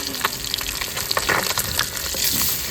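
Vegetables fry in a pan over a wood-fired clay stove, giving a constant hissing sizzle with scattered crackles and the scrape of stirring, close and fairly loud.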